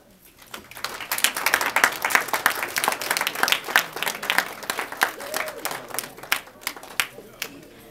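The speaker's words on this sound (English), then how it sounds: "May we please stand and give applause." An audience at a high school Black History program gives sustained applause, dense clapping that swells quickly and stays steady for several seconds before thinning out into scattered claps near the end.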